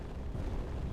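Deep rumbling torpedo explosions in a Warhammer 40K space battle game, a heavy, continuous low boom filling the whole moment without any voices.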